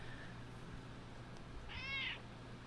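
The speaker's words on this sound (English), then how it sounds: "The cat is fine." A cat gives a single short, clear meow near the end of the clip against a quiet room background with a faint low hum.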